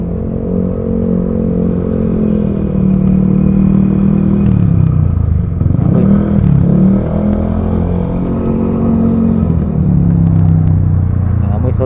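Busy road traffic in Ortigas near Riverside, with cars and motorcycles including a Yamaha Aerox scooter, a constant close rumble of engines with motorcycles revving and accelerating past, loud and continuous.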